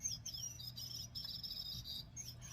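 A small bird gadget bought on Temu chirps in a run of quick, high, electronic-sounding tweets and trills, repeated with brief gaps, fairly quiet and close.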